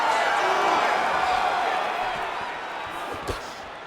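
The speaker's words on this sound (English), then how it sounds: "Huge response from the crowd." Roaring arena crowd from the UFC 5 video game during a women's mixed martial arts bout, a dense, steady wall of cheering that fades slightly toward the end, with a brief thud near the close.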